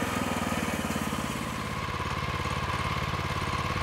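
A Norwood LumberMate LM30 portable sawmill runs on its 14-horsepower Kohler engine, a steady, close, rhythmic putter at a loud, even level throughout.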